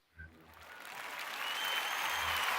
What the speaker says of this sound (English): Let's give them a hand clap for that.